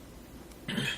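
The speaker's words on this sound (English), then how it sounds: "I do apologize for all the coughing and the audio." A single short cough near the end of an otherwise quiet moment, dry and fairly close, with no talk around it.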